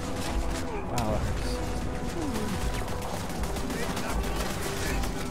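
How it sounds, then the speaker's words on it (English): A machine gun turret fires in Starfield, with rapid repeated shots running under steady game noise and nearby talk throughout. "there's machine gun turret up there"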